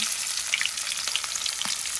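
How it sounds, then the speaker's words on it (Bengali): Chopped onions hit hot oil that already holds cumin seeds for a Bengali fish curry, giving a loud, steady sizzle and crackle with light stirring scrapes close by and no talk. "জিরা দিয়েছে আগে এবার পেঁয়াজ দেবো পরিমাণ মতো"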